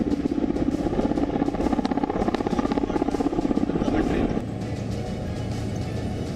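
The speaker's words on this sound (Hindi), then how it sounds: "अपाचे Mi-17 युद्धक हेलीकॉप्टर के अलावा लड़ाकू विमानों ने अपने युद्ध कौशल का परिचय कराया।" Apache and Mi-17 military helicopters flying over Ladakh during a joint army and air force exercise, a steady loud rotor and engine drone that drops to a lower, quieter level partway through, with voices faintly present underneath.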